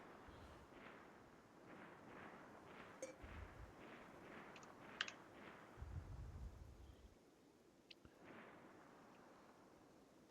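Faint, distant booms and muffled shots pop now and then over a steady low rumble, with no one speaking, in the video game RimWorld.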